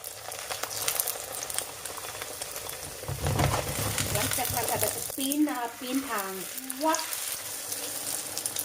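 Eggs sizzle and crackle steadily in a hot pan, a constant frying hiss, while a voice speaks briefly over it.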